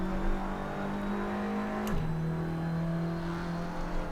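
A car engine in the racing game Assetto Corsa holds a steady, fairly quiet hum at a constant pitch, dipping briefly partway through before settling again.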